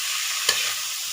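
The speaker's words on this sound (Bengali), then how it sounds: "আলু দেওয়ার পরে একটু নেড়ে নেব।" Potatoes stirred in a frying pan with bitter gourd frying, a brief scrape of a spoon against the pan over a steady hiss of sizzling oil, close and fairly loud.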